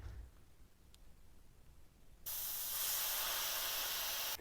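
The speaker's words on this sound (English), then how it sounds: "then we are gonna let all the air out of the tire" A bicycle tire valve on a motorized BMX bike opens and air rushes out in a sudden, steady, loud hiss that runs unbroken after a quieter start.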